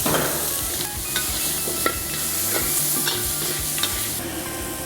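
Steady crackling sizzle of goat meat frying with spice paste in a pan, with repeated scraping and clacking of a utensil stirring it, close up and continuous.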